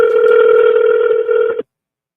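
A telephone call rings out as a loud, steady electronic tone that holds for about a second and a half, then cuts off abruptly into silence.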